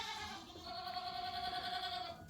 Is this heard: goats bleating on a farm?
yes